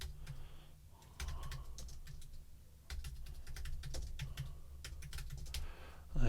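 Typing on a computer keyboard, a quick run of crisp key clicks in short bursts with brief pauses, close and clear over a low steady hum, no speech.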